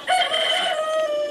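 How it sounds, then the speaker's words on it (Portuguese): A rooster crows in one sustained, loud, close call lasting over a second, its bright strained tone holding steady before trailing off, with no voices over it. "Deve ser um galo, né?"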